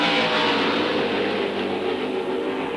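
Open-wheel 1972 Tasman Series race cars at Adelaide roar along the track, a loud, steady, close engine drone with no talk over it.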